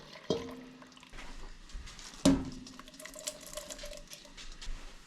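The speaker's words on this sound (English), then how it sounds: "In goes that tomato juice." Tomato juice pours into a ribollita stew pot over medium heat, a faint liquid splash with two brief clunks against a quiet room.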